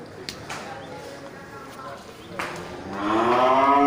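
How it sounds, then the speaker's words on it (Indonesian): Aceh cattle low at a livestock market stall, one drawn-out moo swelling loud and near at the end after softer background bellowing, with people talking nearby. "Ini di lapak sapi Aceh semua ni kan."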